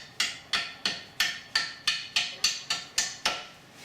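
A hammer taps a pin out of a 2011 Cadillac SRX strut: eleven sharp metallic strikes in a steady rhythm, close and clear, each ringing briefly before the next.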